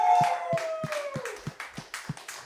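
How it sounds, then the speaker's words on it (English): A small group claps steadily in an even rhythm for a live concert performer, the distinct claps close and clear while a sustained musical tone fades out at the start. "There are not enough of us here to give him the applause that he deserves."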